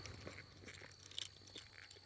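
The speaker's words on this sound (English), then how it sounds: "as I'm chewing on a piece of butterscotch candy" Someone chews a piece of butterscotch candy, giving soft crunches and wet clicks up close. A steady hiss and low hum sit under the chewing.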